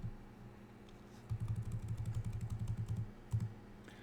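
Fast typing on a computer keyboard while editing math in LyX, a quick run of close, crisp key clicks in a steady burst, with one last isolated press after a short pause.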